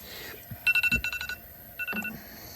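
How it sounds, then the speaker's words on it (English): A kitchen timer alarm beeps in quick bursts, a rapid cluster of four sharp electronic beeps followed by a softer group and another short burst, fairly faint against a quiet room. "Look at that, timer is perfect."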